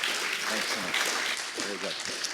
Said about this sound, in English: A big round of applause for Dr. Kontovounisios.